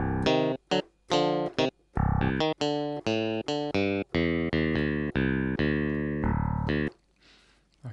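A clean electric guitar preset in Cubase plays a run of short, bright, distinct notes one after another, dry and up front with no one talking.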